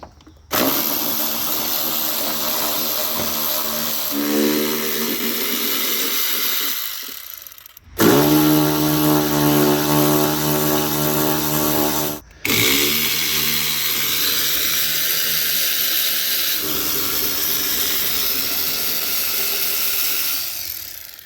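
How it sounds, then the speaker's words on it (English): A power tool removes 10 mm bolts from the wiper linkage on a 2006 Dodge Ram 1500. It runs in three long, loud whirring bursts close up, separated by brief pauses, and its pitch rises and shifts within each run. "First thing we want to do is remove these bolts. They look like 10 mil"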